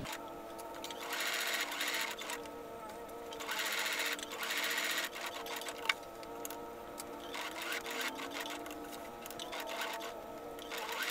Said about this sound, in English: From the outside of the collar, stitch again along the previous stitch lines to secure the foam.